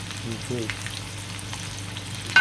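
Onions fry in a pan in a small home kitchen, a low continuous sizzle with a brief voice murmur early on and a sharp clink at the end.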